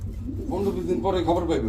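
Racer pigeons kept as a breeding pair give a few soft, throaty coos up close, rising and falling in short rolling phrases over a low background hum.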